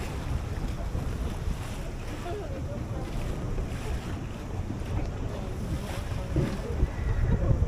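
Tour boat turning through open ocean swell off the Bay of Islands, New Zealand, near the Hole in the Rock: steady engine rumble and water wash with constant wind buffeting the microphone, building slightly near the end.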